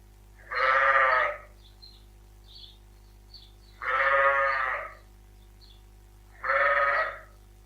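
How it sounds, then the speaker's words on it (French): Sheep bleating three times, each call long and wavering, spaced a few seconds apart, close and clear with no other sounds between. "Le mouton."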